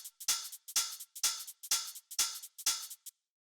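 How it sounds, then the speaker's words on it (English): Tech house shaker and hi-hat loop, crisp bright ticks in a tight repeating groove, about six bars of steady sixteenth-note pattern played alone before stopping cleanly. "the next thing we have here is the shaker and hi-hat,"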